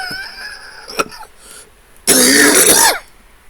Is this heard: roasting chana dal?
no